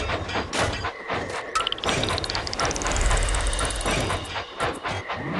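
An electrified train engine in the Thomas & Friends Minis video game gives off a dense mechanical clatter with ratcheting, gear-like ticks and a rising whistling sweep, loud and continuous throughout.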